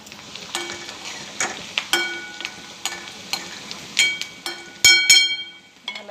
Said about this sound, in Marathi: कांदा चांगला भाजून घ्यायचा आहे आपल्याला भाजत आला आता कांदा थोडा भाजावा लागतो